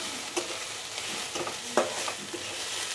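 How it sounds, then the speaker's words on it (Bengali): Onions and green chillies fry in a pan with a steady broadband sizzle, broken by a few soft scrapes and stirs of a spatula; close and moderately quiet, with no talking. "আর একটু ভেজে নেব"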